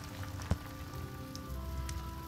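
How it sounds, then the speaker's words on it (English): Rain in the video game Stonehearth, a soft steady patter of drops on surfaces with a faint low hum underneath and one brief tap, without talk. "let's build some places to get out of the rain"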